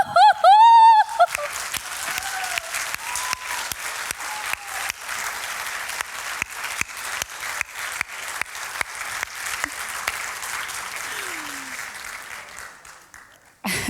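Sustained audience applause filling a comedy show hall, dense clapping that rises right after a brief loud moment at the start and continues steadily before tapering off near the end.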